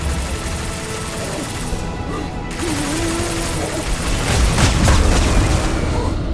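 Heavy weapons fire and explosions in the Mass Effect 2 sci-fi shooter, a dense, continuous battle din of booms and rapid shots that grows louder toward the end, with a brief voice in the mix.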